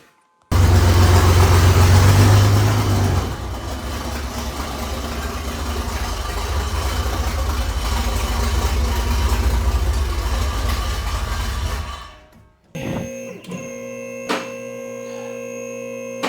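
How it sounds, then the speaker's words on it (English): Loud, deep exhaust rumble from a C10 pickup truck with a very loud aftermarket muffler, revving then settling to a throaty idle, dropping away before a quieter, different engine hum returns. "put a different muffler in that's super loud"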